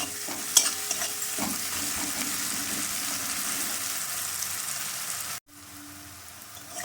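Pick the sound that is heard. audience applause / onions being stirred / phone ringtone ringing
onions being stirred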